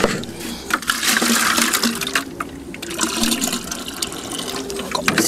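Water runs and splashes steadily as a pigeon bath is filled, a close, continuous rushing sound with small fluctuations.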